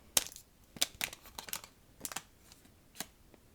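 Tiny plastic diamond painting drills spill and scatter onto a surface, making a quiet, irregular patter of sharp little clicks and rattles in bursts, with faint crinkling between them.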